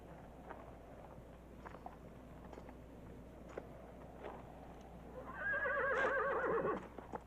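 A horse whinnies loudly near the end, a rising and falling neigh lasting about a second and a half, preceded by scattered soft clops and rustling over a low outdoor background hum.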